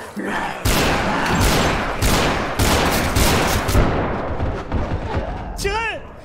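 Loud, close gunfire in the Garry's Mod DarkRP game during a zombie apocalypse scene, sharp repeated bursts and booms for several seconds, with a person's voice talking underneath.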